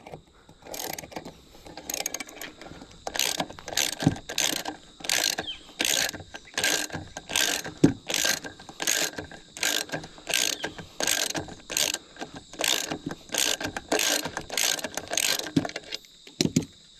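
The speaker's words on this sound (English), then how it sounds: "You need a 17 mil deep socket to take off the prop." A ratchet with a 17 mm deep socket works the prop nut off a Ghost trolling motor lower unit, giving a long run of crisp, evenly spaced clicking bursts close to the microphone.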